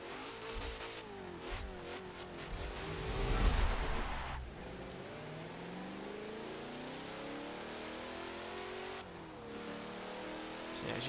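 A Corvette in the racing game Forza Motorsport 7 accelerates hard. The engine roars loudly through a rising, revving stretch, then settles into a steady, climbing drone that continues to the end.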